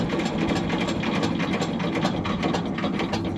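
A Shifeng 240 LR mini tractor engine runs steadily, a loud, close mechanical clatter with rapid rhythmic ticking that continues without a break.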